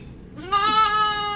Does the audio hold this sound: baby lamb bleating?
yes